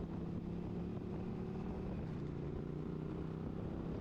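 Steady engine drone of a motorcycle on the move along the Grapevine, a continuous low rumble mixed with wind buffeting, with no voices.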